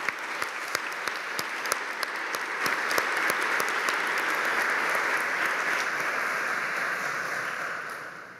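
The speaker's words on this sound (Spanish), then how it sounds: "Un aplauso hasta el cielo para Antonio." Audience applause at a national environmental award ceremony in Peru, dense sustained clapping with sharp individual claps at the start, steady and fairly loud, gradually fading toward the end.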